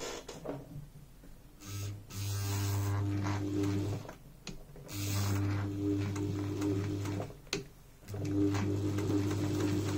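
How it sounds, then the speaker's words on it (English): Sewing machine stitching shoulder and bust darts on a dress of ice-cream-print cotton poplin, three steady close bursts of motor hum separated by short pauses while the fabric is repositioned, no talking. "I'm going to sew up my shoulder darts, because I got a little bit of shaping at the back. And then I'm going to sew my bust darts."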